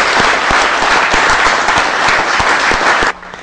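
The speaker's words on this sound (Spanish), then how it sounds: "Eso merece un aplauso" Sustained applause from an audience at a Venezuelan government event in Caracas, dense and loud for about three seconds before cutting off abruptly into quieter room noise.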